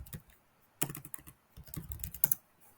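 Quiet, close computer keyboard typing as a wall name is entered in modeling software: irregular clusters of soft clicking keystrokes with brief pauses between words.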